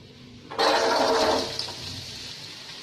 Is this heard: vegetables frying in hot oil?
yes